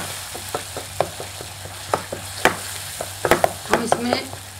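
Curry leaves drop into a hot pan for chana chaat, crackling and sizzling with sharp spattering pops and stirring scrapes, close and uneven in rhythm.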